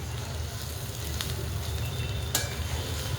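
Okra cooked with tomatoes sizzles steadily in a pan as it is turned and stirred, with a couple of brief scraping clatters over the continuous frying hiss.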